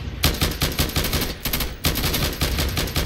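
Rapid automatic gunfire from the video game Insurgency rattles out in loud, close bursts, with short pauses between the volleys and no talking.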